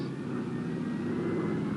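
World War II transport planes fly in formation over the Nadzab Valley, a steady, droning engine roar that fills the air, continuous and fairly loud, with no voices.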